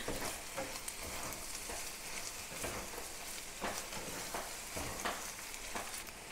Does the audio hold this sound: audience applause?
no